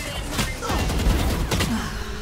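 Valorant gunfire: rapid bursts of in-game rifle shots crack in quick succession, loud and close, with a voice talking underneath.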